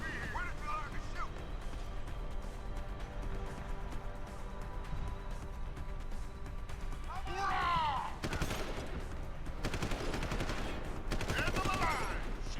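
Rapid gunfire in a video game, clustered in dense automatic bursts in the latter half, with scattered shots earlier over a low ambient bed, fairly near, with voices talking at moments.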